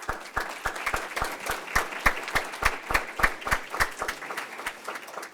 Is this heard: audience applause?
yes